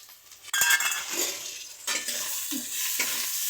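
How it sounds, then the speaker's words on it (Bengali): Chopped tomatoes hit a pan and sauté with a bright sizzle, while a utensil scrapes and clinks in a few stirring strokes, close and fairly loud, with no talking. "বিলাতি কুচিগুলো দিয়ে আমি ভালো করে কষাতে থাকবো।"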